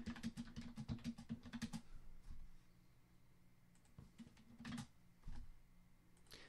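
Keys on a computer keyboard rattle in a quick close burst for about two seconds, then scattered single taps and a second short flurry follow over a quiet room, with no voices.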